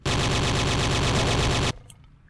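Sustained automatic gunfire aimed at a dinosaur in the game Trespasser, one loud unbroken rapid burst that cuts off abruptly, followed by faint clinking tails.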